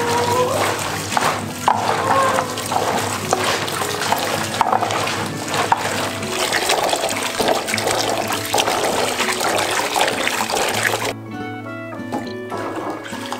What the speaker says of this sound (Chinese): 现在我们要把这个洗干净了啊